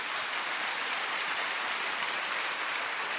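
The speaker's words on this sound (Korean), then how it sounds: "여러분들의 우레와 같은 박수로 한번 박수 한번 쳐주세요" Thunderous applause from a seminar audience honoring mentors seated in front, a steady, dense wash of clapping that holds at an even level throughout.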